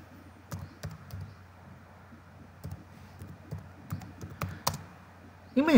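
Typing on a computer keyboard while searching a satellite weather map, scattered close key taps in short irregular runs over a low background hum.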